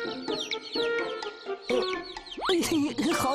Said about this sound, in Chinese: 这些小鸡哪来的？